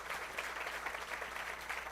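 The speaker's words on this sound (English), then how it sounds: "I request you all to give a good, clear round of applause for everyone out here" A hall audience at a World Architecture Day event in Pune applauds, a steady, dense wash of many hands clapping together at moderate distance, sustained without a break for two seconds.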